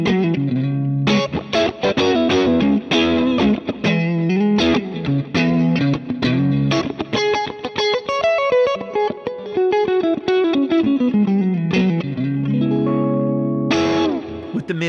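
Electric guitar played through a Dumble-style amp with exaggerated bright, mid and deep voicing, heard as loud, thick, distorted chords and ringing single notes with a reverb-like tail, played alone throughout.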